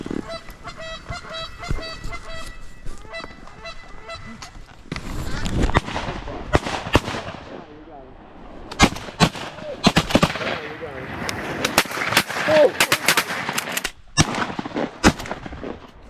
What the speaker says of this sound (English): We might have to shoot them flying over.